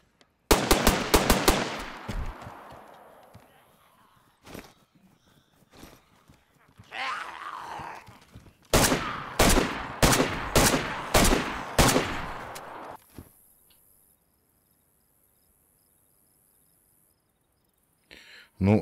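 In the DayZ video game, a rapid burst of automatic gunfire opens, followed by scattered single shots and then another string of evenly spaced loud shots with a few quieter gaps between them.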